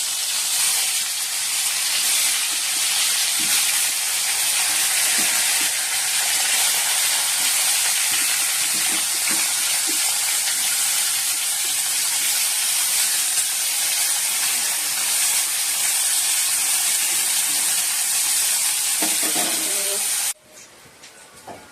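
Pointed gourd and bitter gourd slices fry in hot oil in a kadai. A loud, dense hiss runs steadily for about twenty seconds, then stops abruptly, leaving quiet background.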